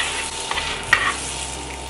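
Butter melting and sizzling steadily in a frying pan as it is spread to coat the surface for egg-in-a-hole French toast, a continuous close frying hiss with a couple of faint scraping touches.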